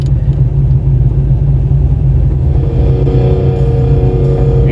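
A 1987 Monte Carlo SS, a car with a water pump problem, drives along with a loud, deep engine rumble and steady low drone heard from inside the cabin, with no talk.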